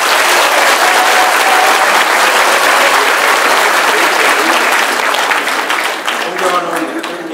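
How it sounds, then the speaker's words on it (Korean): A crowd at a Democratic United Party campaign rally in Daegu claps loudly and densely, a thick sustained wall of applause that eases near the end as a voice begins over it. "여러분 박수 한번 부탁드립니다."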